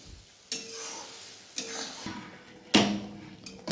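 Raw mango chutney with sugar and a little turmeric simmering in a pan, a soft bubbling sizzle broken by a few sharp scraping stirs of a spoon against the metal, close and fairly quiet.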